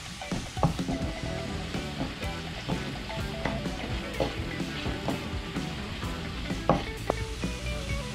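Chicken gizzards sizzle steadily in a pan while being stirred, with scraping and clinking utensil hits against the pan over a continuous frying hiss.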